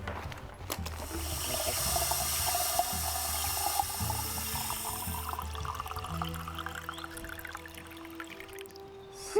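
Water running steadily from a tap at a woodland treehouse shelter, a continuous close splashing rush that holds for several seconds and then eases toward the end, with no talk.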